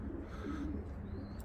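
An Andijan red-stone pigeon coos in a low, steady, continuous murmur close by, heard among pigeons being cleaned and tended.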